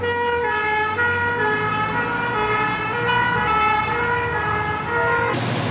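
Fire engine siren from a Low Hill fire station appliance heading out on an emergency call, a steady wailing tone with strong harmonics sounding loud and close throughout, over a low engine rumble.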